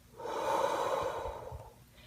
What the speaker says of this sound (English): And deep breathing, nice and slow and even, is key.